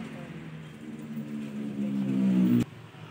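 Motorcycle engine parked at a house, a low idling hum that swells louder toward the end before cutting off abruptly, heard from nearby.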